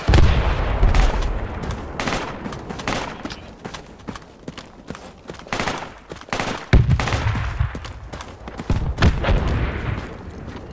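Gunfire in a video game during an area attack: rapid bursts and scattered shots crackle and boom across the scene, with heavy low thuds, loud and continuous, swelling again near the end.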